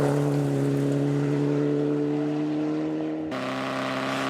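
A Mitsubishi Evo 9 rally car drives a stage at Rally Otago, its engine holding a loud, steady high drone before the pitch drops abruptly with a gear change and then carries on.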